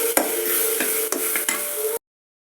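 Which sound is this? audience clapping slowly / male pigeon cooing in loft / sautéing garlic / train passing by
sautéing garlic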